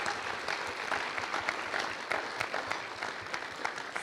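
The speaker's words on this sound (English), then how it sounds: "so let's give them one more round of applause." Congregation applauding during a Sunday church worship service, a steady wash of clapping from many hands at moderate distance, continuous and fairly even throughout without talk.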